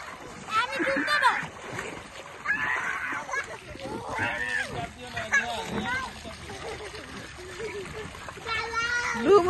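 A child ducks their head into water, stirring up sloshing splashes that come and go beneath a child's lively chatter and other voices close by.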